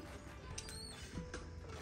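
Hinges on a Jayco 1206 caravan sliding into place, a quiet short creaking and scraping of metal parts, close by with no voices.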